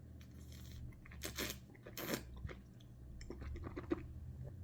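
A taster sips a full-bodied white wine blend aged in French oak, making close, quiet slurping and swishing mouth sounds with faint glassy clinks.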